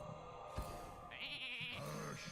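A sheep bleats after a Polymorph spell in the Hearthstone card game: a short, wavering bleat rises over a busy game mix of effects and music and holds for about a second.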